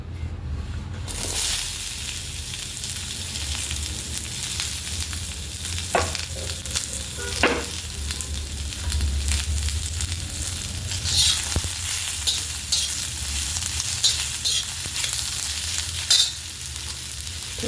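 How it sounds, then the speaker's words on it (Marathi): Chopped onion fries in hot oil in a pan for a spicy village-style chicken curry, giving a steady, dense sizzle that runs throughout with occasional louder crackles and stirring scrapes. "यात आपल्याला भाजायचा आहे आता कांदा"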